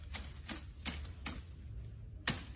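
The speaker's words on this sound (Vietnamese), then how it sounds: "Mình chặt luôn cây bông giấy các bạn." Sharp chopping strikes cut down a bougainvillea plant outdoors, five distinct blows landing at an uneven pace, fairly faint and with no talking.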